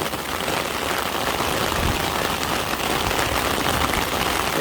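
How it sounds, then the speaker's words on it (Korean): Heavy rain pouring down at a fishing spot, a dense steady hiss of countless drops spattering on surfaces, loud and continuous throughout with no talking. "비가 많이 온다, 지금"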